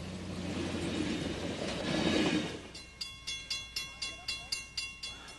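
A steam train pulls five cars, among them a baggage tool car, a commissary car, a coach, a Burlington sleeper and a heavyweight Lehigh Valley office car. A rumbling roll gives way to an even clickety-clack of wheels over rail joints, about two beats per second.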